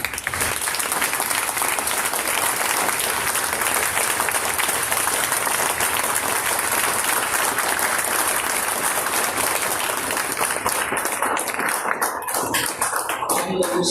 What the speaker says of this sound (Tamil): உங்கள் வீராங்கனை அந்த மனு பாக்கிறதுக்கு இன்னத்தை கை தட்டலாமா?